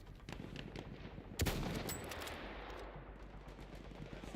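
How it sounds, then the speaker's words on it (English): Machine gun fire in the Battlefield 1 multiplayer video game rattles in rapid bursts, with a louder burst at one point over continuous battlefield noise. "Ein Maschinengewehr!"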